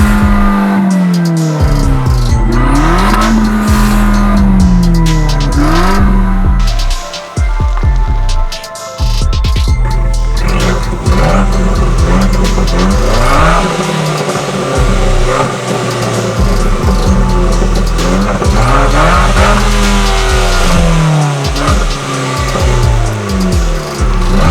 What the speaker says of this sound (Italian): In sport lo scarico Record Monza si apre completamente e vi fa sentire tutto il sound dell'auto